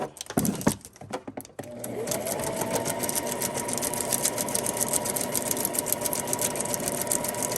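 A sewing machine stitching down the sides of a small paper-and-fabric corset for a junk journal; after a few handling clicks the motor settles into a steady, close, continuous whir.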